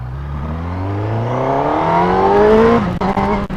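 A 2018 Honda CBR1000RR SP Fireblade engine drops rapidly through the gears from sixth to second without the clutch, its loud droning pitch sliding and stepping with each shift before crackling off at the end, close and loud.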